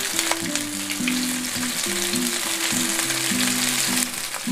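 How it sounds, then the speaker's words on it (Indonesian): Sliced onions sautéing in a pan for Indonesian egg semur, a loud close sizzle with a bright hiss, under repeated clinks and scrapes of a spatula stirring at an irregular rhythm, no voices. "saya akan tumis terlebih dulu bawang bombay yang sudah diiris-iris"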